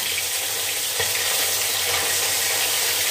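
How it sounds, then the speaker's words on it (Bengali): Fish fries in a pan in a home kitchen, giving a steady, dense, close sizzling hiss that continues evenly without pause. "মাছ ভেজে নিচ্ছি"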